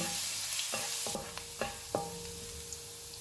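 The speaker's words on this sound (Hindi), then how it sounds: "ऑयल गर्म हो गया, इसमें चॉप किया हुआ 1 टीस्पून लहसुन डालेंगे। इसको 1 मिनट तक फ्राई करेंगे।" Garlic fries in hot oil, hissing and sizzling steadily, with a few scrapes and taps from a spoon stirring the pan.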